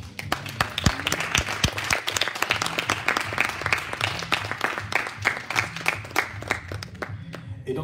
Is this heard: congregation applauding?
yes